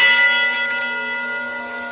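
A cathedral bell rings out with one rich, sustained metallic tone that hums with overtones and slowly decays over about two seconds, with no other sound around it.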